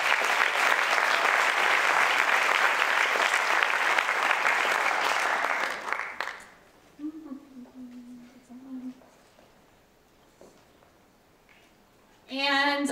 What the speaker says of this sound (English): Round of applause for our sponsors.